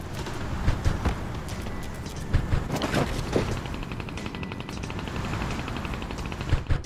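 Gunfire in the Sausage Man video game from an AWM sniper rifle, a few sharp cracks spaced irregularly among fainter game noise, moderately loud with no talk.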